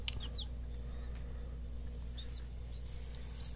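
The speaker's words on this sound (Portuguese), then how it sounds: "é só para mostrar a vocês mesmo que nasceram os pintinhos" Newly hatched balão GSB sertaneja chicks peeping in a few high, thin calls over a steady low hum, fairly close, with no talking.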